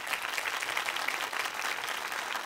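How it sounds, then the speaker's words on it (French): Studio audience clapping on a television singing game show, a loud, dense and even burst of hands that carries on steadily with no voices over it. "on peut vous applaudir très fort"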